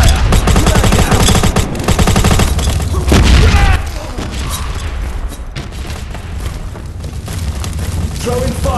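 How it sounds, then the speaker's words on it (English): Grenade blasts and gunfire ring out during a tournament battle, with loud booms and rapid bursts at the start before the noise drops to quieter rumbling and scattered shots. "Throwing fire. Grenade out."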